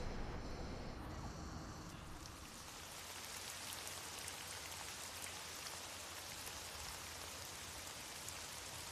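Heavy rain falls in a steady, dense roar that holds evenly from start to finish, with no talk over it.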